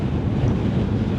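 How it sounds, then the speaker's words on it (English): Gusty wind buffets the microphone outdoors, a brief loud rumbling roar with no voices. "It's bloody windy again."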